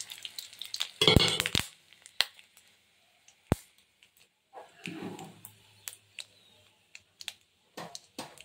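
Neem flowers drop into a hot pan of oil with panch phoron spices and fried chillies, setting off a loud burst of sizzling followed by scattered crackles and clicks of stirring.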